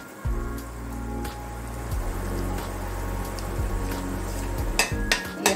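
Masala paste fries in oil for a potato and egg curry, giving a continuous close hiss like light rain over a steady low hum, with a few sharper crackles toward the end.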